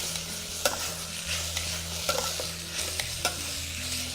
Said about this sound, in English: into that I'm throwing an onion that I've diced and some bacon that I've diced up as well